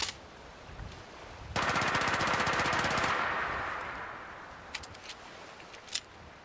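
A 12.7mm weapon in Fallout 4 lets off a rapid burst of automatic fire for about a second and a half, loud and rattling, then a fading tail and a few sharp clicks.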